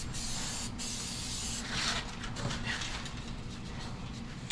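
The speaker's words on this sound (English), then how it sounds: "I'm going to be hit with some weld through primer." Weld-through primer hisses steadily from an aerosol can onto sheet-metal floor pans and wheel tubs for a 1952 Chevy pro street build, one continuous close spray lasting several seconds with no talk.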